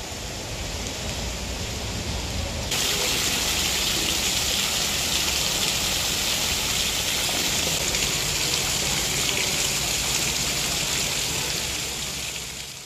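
A rain shower falls over a town in Chhindwara, a steady, loud broadband hiss that swells after a quieter start and keeps going without a break, with no voices.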